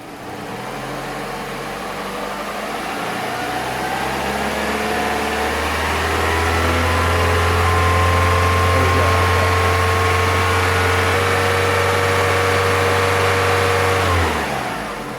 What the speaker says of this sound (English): we're going to bring the revs up slightly and see if that changes the reading